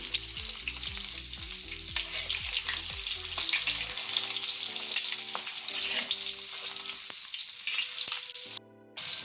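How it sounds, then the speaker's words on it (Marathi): Fish frying in oil in a pan crackles and sizzles loudly at close range while pieces are flipped to the other side, with a few clinks and a short gap near the end. "तळून घ्यायचंय, नंतर दुसरी साईड पलटी करायची आपण"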